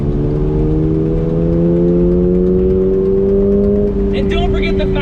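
A 2022 Toyota GR86 sports car on a track day, its engine droning loud and close as the pitch climbs steadily under acceleration, with a brief higher whine or squeal near the end.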